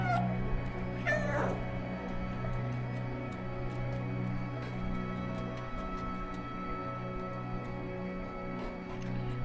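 A cat meows once in the video game Stray, a short rising-and-falling call over a steady low game ambience, with faint ticks and clicks scattered throughout.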